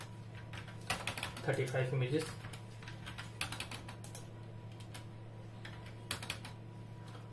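Quick clicking keystrokes on a computer keyboard at a CT scanner workstation while a 3D shoulder scan is set up, close and crisp in short bursts, with someone speaking over much of it.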